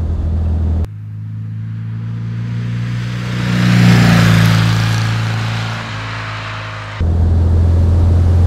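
A Porsche Speedster accelerates from inside the cabin, its engine rumbling low and then swelling into a loud, rising rev that peaks and eases back to a steady drone, with no talk.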